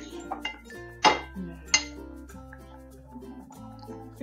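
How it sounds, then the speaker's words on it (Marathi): A spoon stirs rice kheer with ground coconut thickening in a pot, giving two sharp metallic clinks against the pot amid softer scraping, with a steady tonal hum running underneath. "सतत ढवळत ते शिजवून घ्यायचे तांदूळ."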